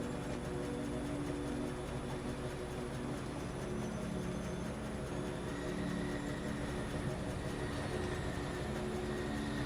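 A steady, low rumbling drone of a train running in the factory game Foundry, continuous and even throughout with a faint tonal whine on top, no voices.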